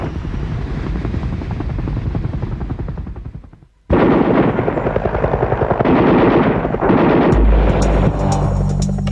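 Heavy enemy gunfire and explosions strafe a Vietnam-era landing zone around UH-1 Huey helicopters, a dense loud roar that cuts out briefly, then bursts back with sustained rattling fire and booming impacts.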